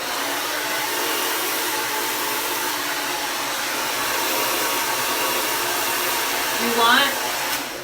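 Handheld hair dryer blowing steadily and close during a round brush blow dry of a client's hair, a constant broadband whoosh with a brief brush or tool sound near the end.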